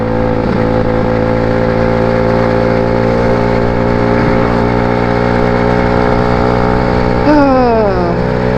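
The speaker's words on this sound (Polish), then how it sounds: "Myślałem, że nic nie jedzie, a tu popatrzcie się, niespodziewanie samochód." Car passing unexpectedly on a road, heard from a moving motorcycle over its steady loud engine drone, with a brief pitch-falling whoosh of the passing vehicle near the end.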